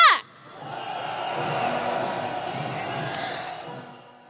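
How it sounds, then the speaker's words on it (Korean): A large crowd at a rainy candlelight protest march in Gwanghwamun, Seoul, roars a sustained rallying shout calling for impeachment, a broad distant wash of voices swelling and holding for several seconds. "힘찬 탄핵의 함성 한번 질러보겠습니다"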